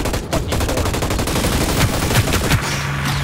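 Rapid gunfire in the shooter game Hyper Scape, a dense run of loud shots with a few sharper cracks standing out, continuous and close with no pauses.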